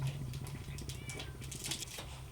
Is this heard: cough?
no